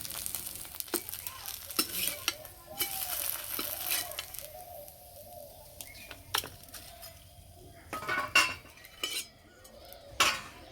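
Snack pieces made from chira and rice flour fry in oil with a soft background sizzle, broken by sharp metal clinks and scrapes of a utensil against the pan at irregular moments.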